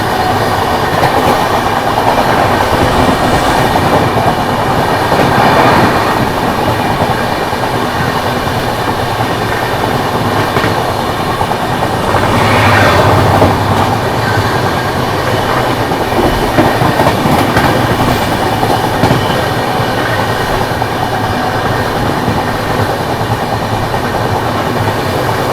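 A Barauni–New Delhi clone special passenger train running at about 130 km/h, heard from on board as a loud, steady roar of wheels on rail with recurring clickety-clack beats and rushing air throughout.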